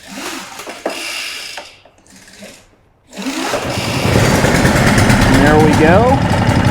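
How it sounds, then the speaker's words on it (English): A Stihl BR 800 backpack blower's gas engine catches on full choke and runs loudly and steadily for a few seconds after a brief pull-start rattle, with someone speaking at the start. "So we have fired and died there."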